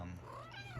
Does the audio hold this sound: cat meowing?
yes